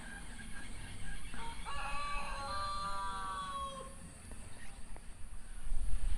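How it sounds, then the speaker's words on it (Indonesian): Chickens and a rooster in a quiet village in the early morning, with a clear crow rising and falling mid-distance and scattered clucks over soft ambient hiss. "Ini cuman terdengar suara ayam"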